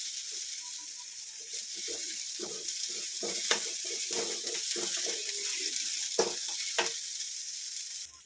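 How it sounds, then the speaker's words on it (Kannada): Onions fry in oil in a pan with a continuous close hiss and sizzle, broken by stirring scrapes and small crackles, fairly quiet with no voices. "ಫ್ರೈ ಮಾಡಿದ್ರೆ ಎಣ್ಣೆಯಲ್ಲಿ ತುಂಬಾ ಚೆನ್ನಾಗಿರುತ್ತೆ ಹಂಗಾಗಿ ಚೆನ್ನಾಗಿ ಫ್ರೈ ಮಾಡ್ಕೋಬೇಕು ಈರುಳ್ಳಿ ಎಲ್ಲ ಬ್ರೌನ್ ಕಲರ್ ಬರಬೇಕು"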